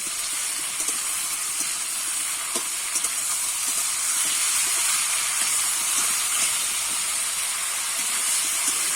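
Fish head and Malabar spinach sautéing in a pan, a soft, steady hiss of frying with faint occasional clicks of stirring, quiet and continuous.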